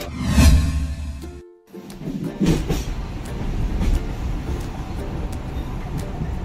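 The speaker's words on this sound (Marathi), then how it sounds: "आमची ट्रेन आली होती ना" A train rumbles and clatters into a station in Sindhudurg, a loud passing roar with a brief drop and squealing brakes, then steady rolling noise.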